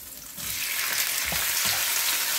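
Squid frying in a hot pan, a sudden hissing sizzle that starts after a brief quiet moment and holds loud and steady, with faint stirring thumps underneath, close up.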